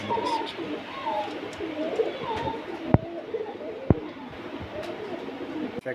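Pigeons, including a male Kamagar pigeon, coo softly and repeatedly nearby, soft throaty calls overlapping, with a couple of sharp clicks in the background.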